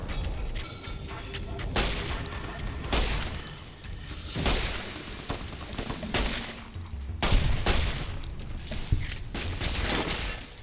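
Rapid automatic gunfire in Fallout New Vegas rattles in dense, sustained bursts with sharp high cracks throughout, close and loud, with a mag dump emptying into a target.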